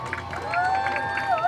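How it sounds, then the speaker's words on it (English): A crowd cheers and claps at the 2017 Capitol City Pride Parade, a steady outdoor roar with whistles and shouts over music, loud and close. "A big round of applause for our queen."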